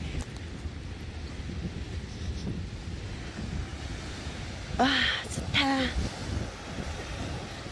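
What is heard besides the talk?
ocean waves on the shore, with wind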